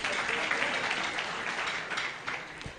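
A crowd at an alumni dinner claps steadily for a few seconds, a dense wash of hand claps without talk, tapering slightly toward the end.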